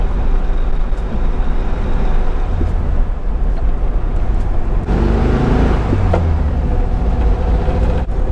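A 1975 VW Beetle ragtop driving in second gear with the clutch slipping, giving a loud, continuous air-cooled engine drone and road rumble heard from inside, steady throughout with slight shifts in pitch.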